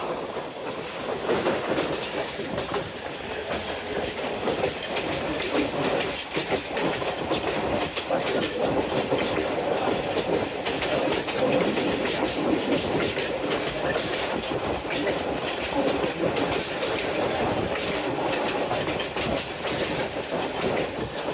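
Steady rumbling and clickety-clack of the Jamalpur Express passenger train passing through Bhawal Gazipur station, with occasional faint wheel squeals, continuing loudly and evenly throughout.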